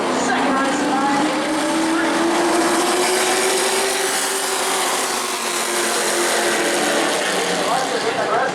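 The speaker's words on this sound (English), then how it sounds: "Chuck Hires coming off turn number 4, second race tonight" Pro race trucks racing on the track at New Smyrna at night, a loud, sustained engine drone with a rising and falling pitch as they pass, under continuous commentary.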